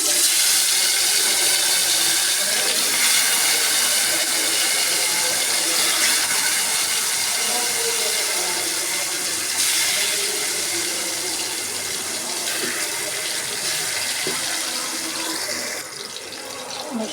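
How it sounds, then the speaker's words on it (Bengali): Marinated fish slides into hot mustard oil and fries with a continuous, fairly loud sizzle and crackle, easing slightly toward the end, with no talk. "আমি এদিকে বেশি করে সরিষার তেল গরম করে এখন এই মাখানো মাছগুলো"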